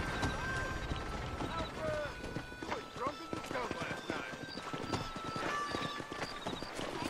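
Several horses' hooves clop steadily on a bridge in Red Dead Redemption, a dense, busy clatter with a horse whinnying and a voice talking over it.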